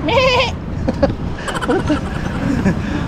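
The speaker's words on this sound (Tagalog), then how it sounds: "Kambing." A goat gives one loud, wavering bleat up close, followed by people talking and chattering outdoors.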